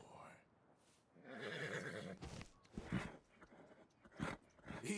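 A horse in Red Dead Redemption 2 whinnies, with rising and falling neighs among snorts and movement noises, heard close and fairly loud, with speech around it.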